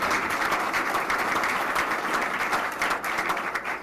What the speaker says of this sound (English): So just can we give these guys a round of applause